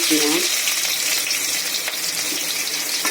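Cooked rice fries in a hot wok with a loud, steady, close sizzle that continues throughout, with only a faint trace of something else at the very start.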